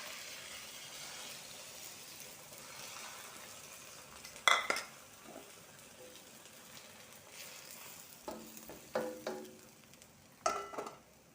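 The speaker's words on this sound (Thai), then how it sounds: "ตอนนี้มะเขือเราก็สุกแล้วนะทุกคนเราใส่ไข่ลงไปค่ะ" Eggs frying in a pan with cooked Thai long eggplant, a soft steady sizzle running throughout, broken by a few sharp utensil clinks and scrapes against the pan near the middle and toward the end.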